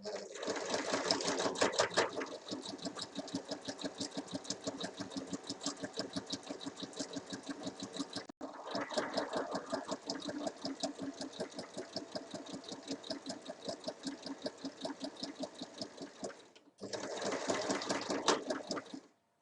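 Sewing machine stitching around a size 40/42 summer dress, a steady rapid mechanical whirr running nearly continuously with two short pauses where the stitching stops and restarts, close and fairly loud.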